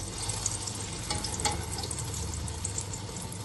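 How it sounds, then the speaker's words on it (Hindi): Potato chapli kebabs frying in a pan of oil, a steady close sizzle and crackle that holds evenly throughout with a few small pops, no voices. "ये देखें, माशाल्लाह से जबरदस्त हमारा जो कबाब है आलूओं का वो फ्राई हो रहा है"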